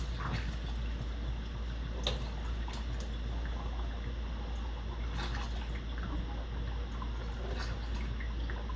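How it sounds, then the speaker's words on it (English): Homemade syrup pours and trickles into a hummingbird feeder in short irregular bursts with occasional drips and clinks, close up, over a low steady hum. "we are going to fill our hummingbird feeders up with our syrup"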